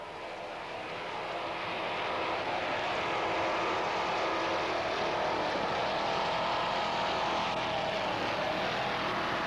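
Team Believer race boat running at speed on the water, a steady loud engine roar that swells over the first couple of seconds and then holds broad and continuous, with no voices.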